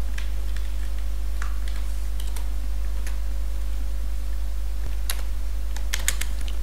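Rapid, uneven bursts of computer keyboard typing as code is entered for a face detection app, close and crisp over a constant low hum, with short pauses between clusters of keystrokes.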